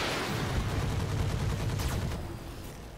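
Weapons fire on a turret in the Roguetech mech game, a dense loud barrage of overlapping shots and blasts that rolls on continuously and then starts to fade, with no talking.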